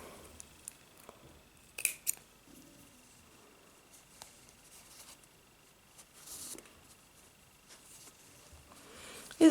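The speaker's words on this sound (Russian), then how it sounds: "Теперь обрезаю белую нить." Scissors snip white yarn in a quiet room, a couple of short close clicks of the blades among soft handling rustles, with no voice.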